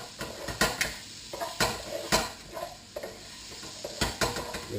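Onions and peppers sizzle softly in a pan for a one-pot quinoa paella while a utensil repeatedly scrapes and knocks against the metal, giving irregular clattering stirs over a low frying hiss.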